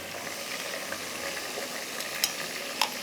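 Ground green chili and ginger garlic paste are stirred into a hot pot for a Mughlai kofta handi, with a soft constant sizzle and a few sharp metallic spoon taps near the end.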